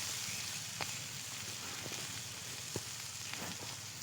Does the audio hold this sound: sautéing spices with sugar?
yes